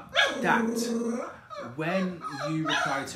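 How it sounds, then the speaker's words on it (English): A dog barks and whines repeatedly in the background while a person keeps talking over it. "I apologise for the dog barking at the moment"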